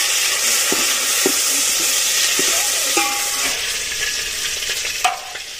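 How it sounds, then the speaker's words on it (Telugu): Boiled bitter gourd stirred in a hot pan: a loud steady frying hiss with scattered scraping knocks of the spoon, close up and without talk. "ఉడికించి పెట్టిన కాకరకాయలను అయితే కలుపుతుంది అక్క"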